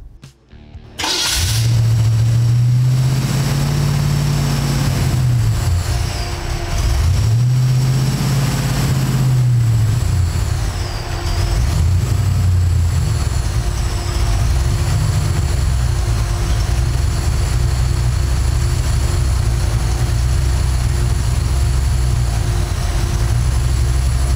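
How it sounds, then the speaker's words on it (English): An engine with a vacuum leak and EFI fuel system cranks and fires, then idles loudly with the revs repeatedly surging up and dropping back, a steady mechanical drone throughout. "the RPM of the engine was fluctuating pretty crazy on startup"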